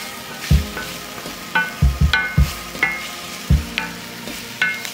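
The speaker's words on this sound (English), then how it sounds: "add in the chopped mushrooms. Give it a little stir and then fry those" Minced garlic and chopped mushrooms sizzle in a pan while being stirred, with a steady close frying hiss broken by repeated knocks of the utensil against the pan in an uneven rhythm. Nobody speaks.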